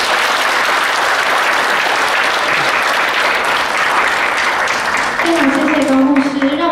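An audience at a conference marking the 35th anniversary of the Taiwan Relations Act claps loudly and steadily as the opening speeches end, with a voice rising over the applause near the close.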